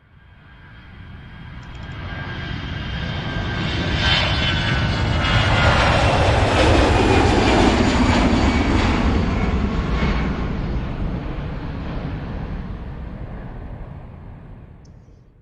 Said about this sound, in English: If you said aeroplane, you were correct.